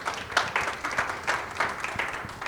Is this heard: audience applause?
yes